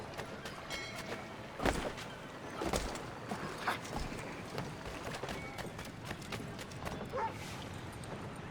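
Irregular hoof clip-clops thud along over a busy, noisy background, with scattered sharper knocks and a faint voice-like murmur, from horses in the video game Assassin's Creed III Remastered.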